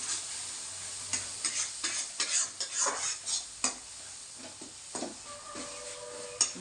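Andhra-style fish curry is stirred in a pan as it fries dry, spoon scraping in irregular strokes over a soft sizzle, close and fairly quiet with no talk.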